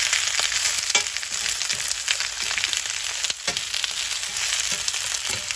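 Onion sizzles and crackles steadily in a hot cast iron skillet at deer camp, a close, continuous bright hiss broken by scraping stirs and small pops.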